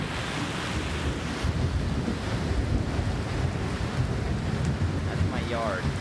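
Fast floodwater surging through a backyard during pouring rain, a loud, continuous watery rush with gusty wind buffeting the microphone and a faint voice underneath.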